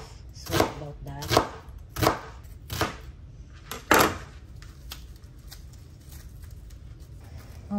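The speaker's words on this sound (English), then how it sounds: "Let's slice the sweet onion." A knife slicing through a sweet onion on a cutting board, five distinct crisp chops at a steady rhythm, then quieter faint cutting and handling noises.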